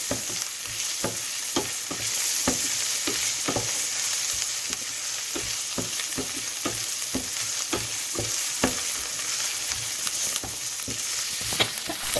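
Ginger garlic paste frying for mutton keema curry, a continuous close sizzle broken by regular rhythmic spatula strokes scraping the pan, with no voices.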